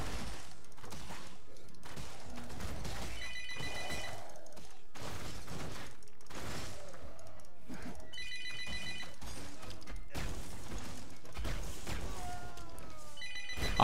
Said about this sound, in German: Telefon geht schon wieder